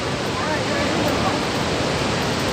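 Rushing water at Unchali Falls, a steady, loud broadband roar that fills the whole moment without letup.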